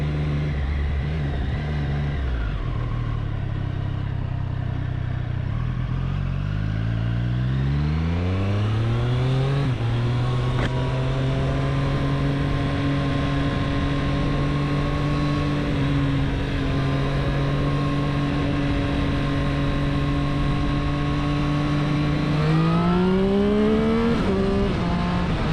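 A Triumph Street Triple RS motorcycle on a road, its engine loud and close, revving up through rising pitch, then holding a steady drone before climbing again near the end, with no talk.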